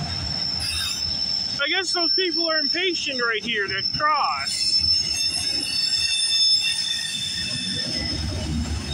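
A CPKC freight train with auto racks rolls through the Guelph Line crossing on the Galt Sub late at night, its wheels squealing loudly in repeated high whines over a steady rolling rumble while a person talks nearby.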